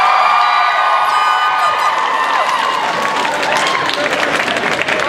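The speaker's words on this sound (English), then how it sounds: "Give yourself a round of applause." An audience applauds and cheers high school students at an event marking the anniversary of the government apology to Aboriginal people; the clapping is dense, loud and steady, with scattered whoops and shouts throughout.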